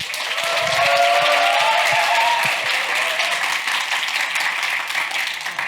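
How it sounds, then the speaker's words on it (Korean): An audience at a public-sector training contest clap to welcome a presenter, a full, sustained round of applause that swells early and then holds steady before tapering slightly. "큰 박수로 맞아주시기 바랍니다."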